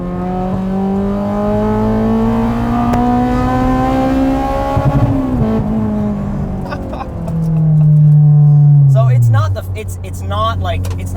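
A Honda S2000 AP2 track car with a naturally aspirated inline-four engine, revving up through rising tones, easing off, then surging loud again before dropping away, with a voice talking over parts of it.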